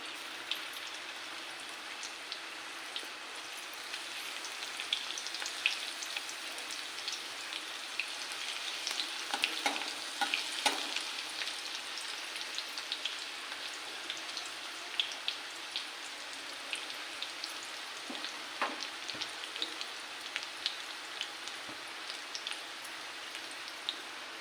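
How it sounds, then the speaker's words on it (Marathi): Garlic fries in a pan for a home-style Maharashtrian pithla and thecha. A steady close sizzle crackles throughout with scattered pops and light stirring scrapes, and no one speaks. "लसूण टाकूया।"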